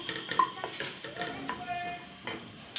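Onions sizzle gently in hot oil with fennel seeds, cardamom and curry leaves for an egg white kurma, with soft scraping and stirring strokes against the pan and faint clinks throughout.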